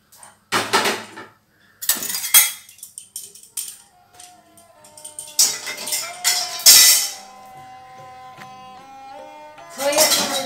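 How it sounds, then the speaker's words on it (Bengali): Whole nutmeg and mace dry-frying in a hot wok (kadai) for prawn pulao, with uneven bursts of metallic clinking and rattling from the spices and utensil against the pan, loud and close, between quieter stretches. "এখানে আমি জায়ফল জয়ত্রীটা একটু ভেজে নেব"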